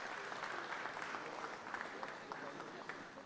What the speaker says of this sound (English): So please give her a warm round of applause.